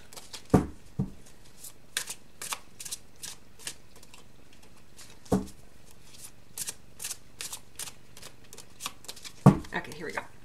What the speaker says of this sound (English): No matter how many times I use these cards, they're just so slippery.